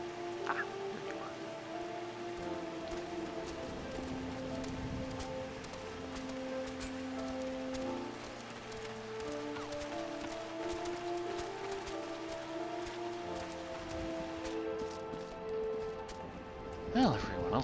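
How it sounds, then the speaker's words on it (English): Steady rain falls at Bronze Lake in the game Final Fantasy XIV, a soft continuous patter under game music and tones, with a voice talking over it. "Rain."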